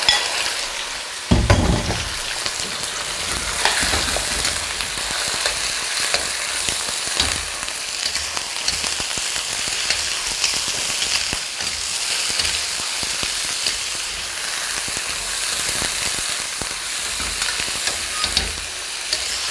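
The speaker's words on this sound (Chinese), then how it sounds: "这里是4个的鲜鸡腿，直接剁成块儿。 我们下锅" Four fresh chicken legs, chopped into pieces, fry loudly in a hot wok, giving a close, constant sizzle broken by bursts of stirring and scraping throughout, with no voices.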